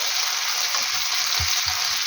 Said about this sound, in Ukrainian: І зараз хай ще трошки перець і смажиться.